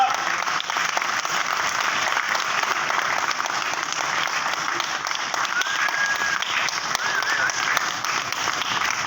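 A large stage-show audience applauds without letup, many hands clapping in a thick, even roar that holds at a steady loudness from start to finish.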